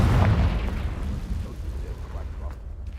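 A Confringo fire spell bursts in Hogwarts Legacy gameplay: a loud, booming explosive blast with a sustained rumbling roar that slowly fades, alone without talk.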